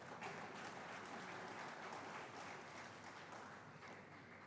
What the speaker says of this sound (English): And I would want us to applaud her for that.